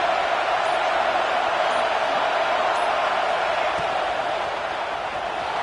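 Broadband roar of a football stadium crowd during a Texas A&M versus Georgia Tech game, a steady, loud wash of massed noise that holds evenly throughout with no distinct voices rising above it.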